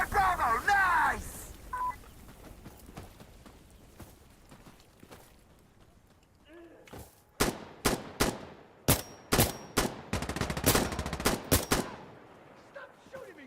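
Video game gunfire in a multiplayer shooter match, a string of sharp, loud, separate shots in the second half after a quieter stretch, with a beeping tone near the start and players talking.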